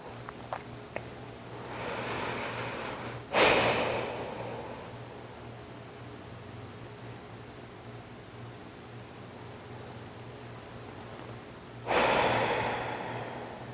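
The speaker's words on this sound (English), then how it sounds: "Let's take 2 more breaths here in this shape." Slow breaths during a gentle seated yoga flow: two distinct, fairly close exhalations spaced several seconds apart over quiet background hiss, with no talk.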